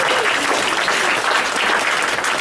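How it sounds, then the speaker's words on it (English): A room of audience members applauds for the 48th district candidates at a local candidates forum, steady, continuous clapping at moderate volume with no talking over it. "Let's give them both a round of applause."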